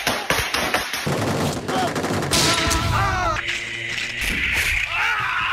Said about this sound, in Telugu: మూవీలో మనం చూసే గన్ షాట్స్